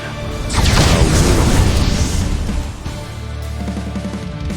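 A fire spell from Octopath Traveler II erupts in a loud, roaring burst that swells for about two seconds and then dies into a crackling, rumbling tail.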